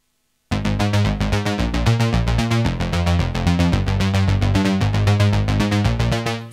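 A Roland Juno 60 and a Monopoly synthesizer playing together, a dense, rhythmic pattern of repeating chord stabs and bass notes that starts abruptly after a brief silence and continues loud and steady.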